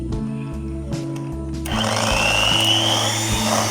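An electric mixer whirs steadily as vanilla essence is blended into cake batter for a no-oven Dalgona cake, the motor noise rising louder and rougher partway through.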